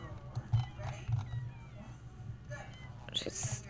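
Cat meowing in The Sims 4, with short soft mews mixed under a low background hum and faint murmuring, ending in a brighter higher cry.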